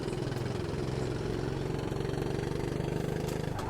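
A single-cylinder race engine in the sim game Automobilista 2 drones steadily at a low, throbbing pitch, holding a constant loud note throughout with no talk.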